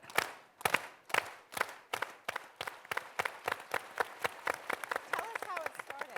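An audience at a film discussion does the unity clap: single claps begin slow and spaced, then steadily speed up into a rapid burst of applause, with a few voices near the end.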